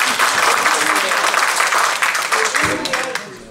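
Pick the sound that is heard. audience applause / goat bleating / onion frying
audience applause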